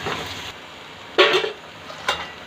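Spatula scrapes in a pan where a prawn shell and tomato curry with masala powder is being fried: two sharp stirring scrapes with a short rasp between them over a faint, quiet background.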